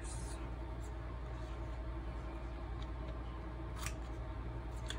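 Scissors snip through paper while a brochure journal is crafted, several crisp, close cuts sounding at irregular intervals over a soft steady background hum.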